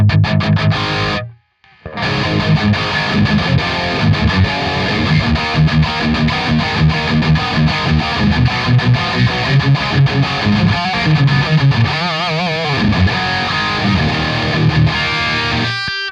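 A loud electric guitar played through a Golden Boy overdrive pedal into a Nano Cortex capture of a Nitro amp, gritty chords and riffs with a brief pause near the start, continuing steadily without talk.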